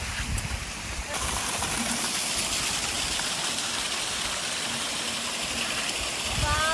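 Water streams over rock at a scenic spot in Gangwon, South Korea, in rain, giving a steady broad rush that runs unbroken throughout at moderate distance.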